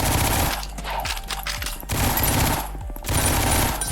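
A weak SMG-type gun fires in the video game Ragdoll Universe. It sounds as loud, close bursts of rapid automatic shots, broken by brief pauses, with no talk over them.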